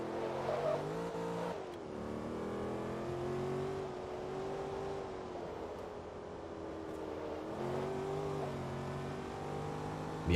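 A Lingenfelter race car in Forza Motorsport 2 drones steadily at moderate volume, its engine note rising and dipping as it shifts through gears during an Amateur Cup big block race, with no talk.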